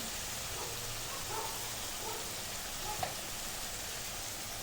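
Spice paste of Kashmiri chilli powder and salt fries in hot oil for a boal fish curry, giving a soft, steady sizzle with faint crackles and one small pop, all at low volume.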